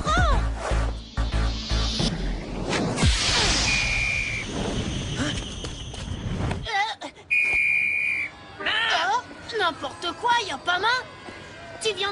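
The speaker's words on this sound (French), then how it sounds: "vient de siffler un arrêt de jeu" A referee's whistle stops play during a street football match, two sharp blasts, the second longer, standing out over shouting players and crowd noise.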